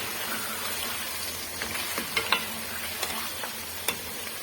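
Mutton pieces frying in a pot for Sindhi biryani, a steady close sizzle with scattered scraping clicks of a spoon stirring the meat, no voices.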